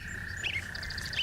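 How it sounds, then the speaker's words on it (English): Bird noises play on a home shopping TV broadcast: a run of quick, bright chirps and tweets repeated over a steady background hum, moderately loud. "They have the same bird noises as Pearl TV."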